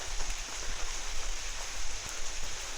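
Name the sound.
rain falling at a cave in Vang Vieng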